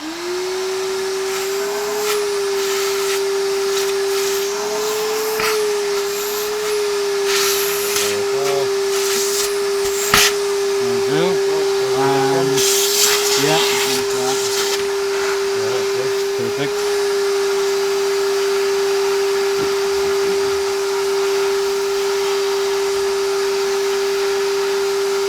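A Hoover Junior 1334A upright vacuum cleaner runs steadily throughout with a constant droning whine, loud and close, with brief clatters and some speech faintly underneath.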